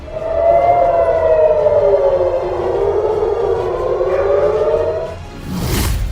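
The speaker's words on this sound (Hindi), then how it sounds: "हर तरफ सायरन बज रहे हैं" A loud wailing air-raid siren in an Israeli city under rocket attack rises and falls in long sweeping tones, sustained for several seconds before a sudden burst of noise cuts in.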